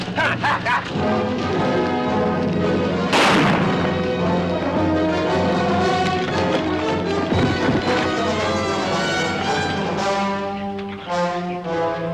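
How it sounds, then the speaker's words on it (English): A pistol shot in a 1950s war drama, one loud sharp crack about three seconds in, ringing over dramatic orchestral music that plays throughout. "I just pulled the trigger and prayed."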